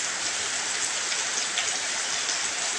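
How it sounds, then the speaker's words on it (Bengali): Rain, starting again after a short break, keeps up a dense, steady wash of noise, near and unbroken. "মাঝখানে মোটামুটি 5 থেকে 7 মিনিট বন্ধ ছিল বৃষ্টি, আবার শুরু হয়েছে।"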